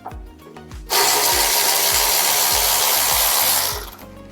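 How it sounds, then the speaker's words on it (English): A tool spins out brake caliper bolts with a 10 mm fitting on a Nissan Armada. A loud, continuous mechanical whir starts abruptly, runs about three seconds and then fades, with low knocks before and after. "You just get your 10 millimeter wrench, take those bolts out"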